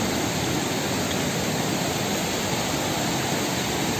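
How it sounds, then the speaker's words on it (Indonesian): A fast-flowing mountain river in a forest area near Majalengka, rushing rapids making a loud, steady broadband roar that stays constant throughout, with no voices. "Nah ini sungainya deras banget."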